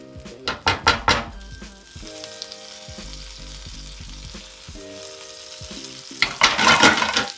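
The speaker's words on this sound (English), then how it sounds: "Move them around in the butter while it's melting." Cabbage sizzles and spits in melting butter in a pan while being basted and pushed around. Loud bursts of frying crackle mix with scraping and clinking of a utensil against the pan, close up, with no talking.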